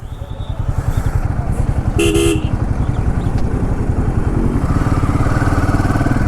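Motorcycle engines throb steadily in a traffic jam on a Himachal road, close and continuous, while car horns toot and honk, one sharp blast standing out midway.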